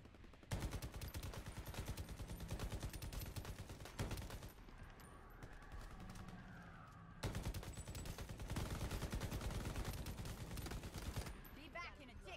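Automatic gunfire in the shooter game Shatterline, rapid sustained bursts of shots, a pause of about three seconds, then further long volleys.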